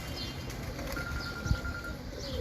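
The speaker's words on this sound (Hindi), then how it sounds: "जैसे ये कबूतर है होमर्स, हॉलैंड ब्रीड इंपोर्ट है" Imported Holland-breed homer pigeons in a loft in Multan coo softly among faint chirps and a brief flutter of wings, low and fairly quiet throughout.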